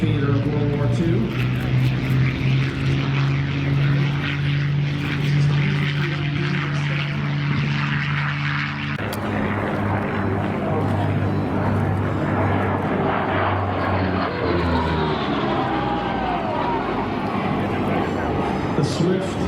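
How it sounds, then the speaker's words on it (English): Lockheed P-38 Lightning twin-engine WWII fighter taking off at an airshow, a loud droning propeller engine roar that shifts pitch midway as it rolls and climbs, with an announcer talking over it. "On the takeoff roll, a P-38 Lightning from Lockheed."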